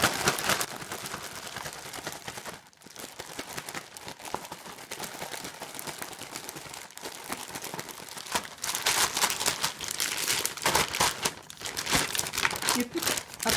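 Flour rustles and crinkles inside a large ziploc bag as it is shaken vigorously, a dense continuous plastic crackle with brief pauses, close up.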